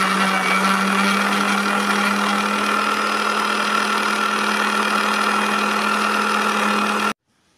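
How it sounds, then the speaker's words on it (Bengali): An electric mixer grinds rose petals with rose water in a steady, loud motor whir with a constant hum for about seven seconds, then cuts off abruptly. No one speaks. "এই যে গোলাপ ফুলের পাপড়িটা মিক্সিতে নিয়ে নেওয়া হলো, এর সাথে একটু গোলাপ জল মিশিয়ে দেওয়া হলো, দিয়ে এবার আমরা বেটে নেব"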